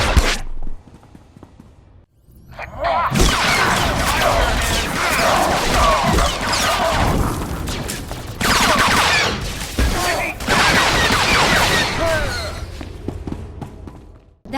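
A dense firefight in the video game SWTOR, with sustained blaster gunfire in loud, crackling bursts over several seconds after a brief quiet stretch, accompanied by impacts and clatter.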